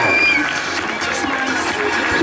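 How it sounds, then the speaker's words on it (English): A rodeo crowd at Weatherford applauding a bronc ride, a broad wash of clapping and cheering heard from a distance, steady throughout with a faint voice beneath. "Nice round of applause."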